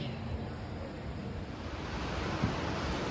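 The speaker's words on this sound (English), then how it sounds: "That's the Natahata something river." Steady broadband rush of the Nantahala River flowing at the Nantahala Outdoor Center in North Carolina on a wet late-October day, soft and even, with no voices.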